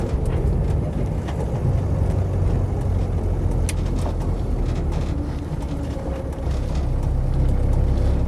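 A green Land Rover 90 hardtop with a 2.5 TD diesel engine runs steadily while driving, a continuous low rumble with road noise and a few faint clicks, fairly loud and unbroken with no talking.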